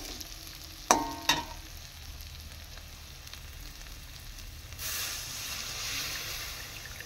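Water poured into a pan of frying snail and potato curry in a village kitchen: two sharp clatters, then a soft bubbling hiss that swells into a steady sizzle.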